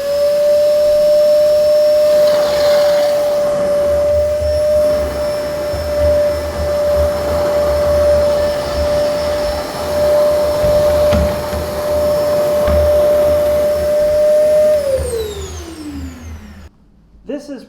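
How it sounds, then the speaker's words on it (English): A small cordless vacuum cleaner runs with a steady high-pitched whine and airy roar, loud and close, then winds down with a falling pitch as it switches off. "it's a very cool little cordless vacuum"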